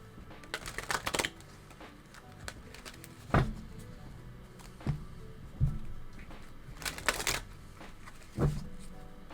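Green witch oracle cards are shuffled close by in soft, papery riffling bursts, with quieter gaps and light taps between them; no speech.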